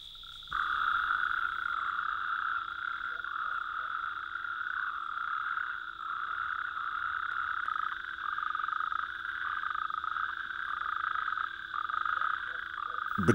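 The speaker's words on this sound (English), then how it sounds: "the common toads gather in the ponds and small lagoons to mate" Common toads croaking at night in ponds and small lagoons in the Picos de Europa, a dense, steady chorus of overlapping trilling calls that runs unbroken for the whole stretch at moderate loudness, with no voices.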